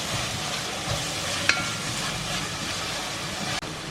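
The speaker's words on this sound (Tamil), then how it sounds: "இஞ்சி பூண்டு பேஸ்ட்டு கூடயே கொஞ்சம் மஞ்சள் பொடி போட்டுருங்க. போட்டு இதையும் ஒரு 1 மினிட் சாட்டே பண்ணிடுறோம்." Ginger garlic paste and turmeric sautéing in a pan for a mutton coconut milk curry, a soft steady sizzle with faint stirring and one brief clink of a utensil.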